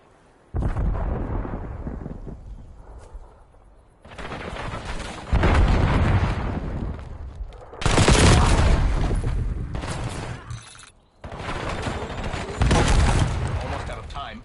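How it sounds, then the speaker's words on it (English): A bomb exploding in a video game: several loud, booming blasts with long rumbling tails, separated by brief quiet gaps, with voices audible between them. "Bomb dropped."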